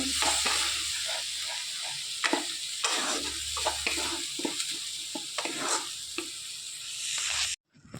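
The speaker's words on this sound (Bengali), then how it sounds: "মশলার সঙ্গে ভালোভাবে নাড়িয়ে চাড়িয়ে মিক্স করে নেব" A spice mixture being stirred in a pan for a chitol fish dish, with a steady sizzle broken by repeated scraping strokes of the spoon. It carries on evenly, then cuts off sharply near the end.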